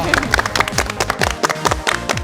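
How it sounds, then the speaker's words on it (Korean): A studio audience applauds on a televised Korean quiz show, brisk scattered clapping from a crowd, loud and close, lasting the full two seconds. "박수 부탁드립니다."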